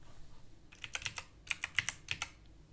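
Keys on a computer keyboard typed in two quick, light bursts of crisp clicks, close by and fairly quiet, with a short pause between them and no voices.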